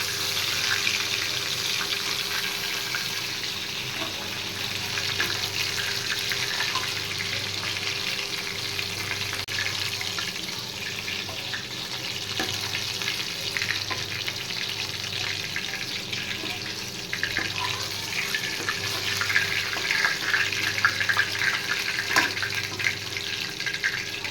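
Fish heads fry lightly in a pan with a steady, crackling sizzle that runs unbroken for the whole stretch, moderately loud and close, with occasional spits and pops.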